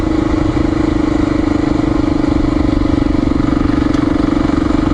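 A Honda XR400R dirt bike engine runs steadily near by, a continuous buzzy drone with a strong steady tone, loud and alone without speech.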